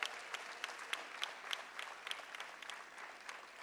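Faint audience applause at a Marathi motivational event, with steady clapping from many hands and sharper individual claps standing out at irregular moments. No voices are heard.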